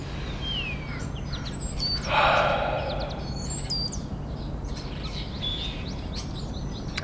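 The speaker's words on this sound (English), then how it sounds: "Just listen to the birds out here." Several birds sing and chirp outdoors in a backyard on a quiet morning, with repeated bright whistled calls near and far and a brief burst of rustling noise, no one talking.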